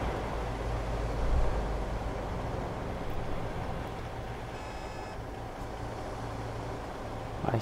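Steady low truck and traffic rumble from American Truck Simulator, a continuous broadband drone with a brief swell near the start and a faint tonal beep pattern midway, no talking.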